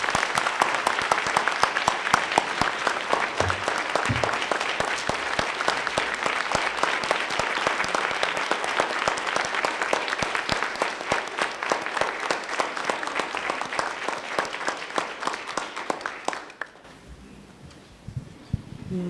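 Sustained applause from a large audience after a keynote address at a fair and affordable housing summit, a thick, even roar of clapping that carries on for most of the stretch before abruptly thinning and dying away near the end.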